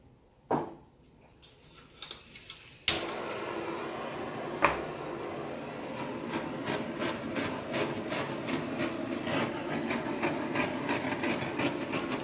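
A torch passes over a linear acrylic paint pour, with a few sharp clicks and knocks at the start, then a steady close hiss with repeated small crackles that continues to the end.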